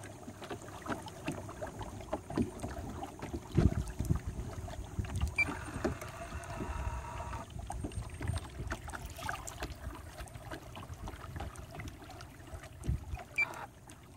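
A Nucanoe Frontier 12 kayak is pushed by a Haswing Cayman bow-mount trolling motor while turning a slow 360 on open water. Soft water sloshing and splashes sit under a faint mechanical hum, with no speech.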